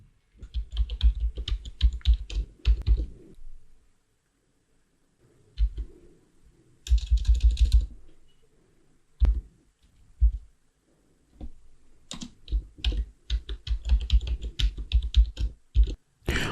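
Rapid clattering keystrokes on a computer keyboard as a password is entered during a Linux server setup, in bursts with pauses between them, near and clear with no talking.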